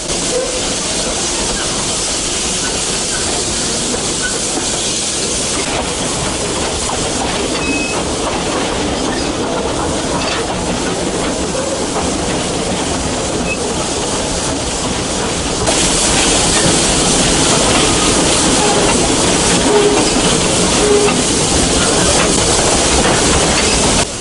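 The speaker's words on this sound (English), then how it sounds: "The familiar bellow that echoes through our history and hearts. The scream of a steam train." A 100-year-old steam train rumbles steadily with a constant hiss and rattling clatter, loud and continuous, growing slightly louder toward the end.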